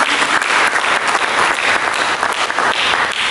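Loud, dense applause from a large church congregation during a sermon, a steady roar of many hands clapping without pause throughout.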